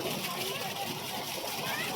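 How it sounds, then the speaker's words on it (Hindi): Water splashing steadily over a small two-foot waterfall at Garh Ghat, a continuous close, dense rush with voices faintly mixed in. "झरने"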